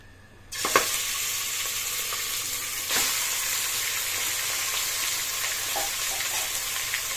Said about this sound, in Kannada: ಸೊ ನಾನು ಕುಕ್ಕರ್ಗೆ ಎಣ್ಣೆ ಹಾಕ್ಕೊಂಡೀಗ ಮಟನ್ ಪೀಸಸ್ನ ಹಾಕೋತಾ ಇದ್ದೀನಿ